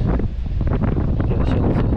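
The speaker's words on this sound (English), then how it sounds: "there's a strong wind coming down the valley" Strong wind gusts down a coastal valley beside sea cliffs, buffeting the microphone as a loud, steady rumbling roar with a couple of brief higher whooshes.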